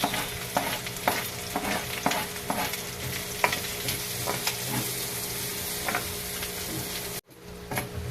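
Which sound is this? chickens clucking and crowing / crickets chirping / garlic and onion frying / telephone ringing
garlic and onion frying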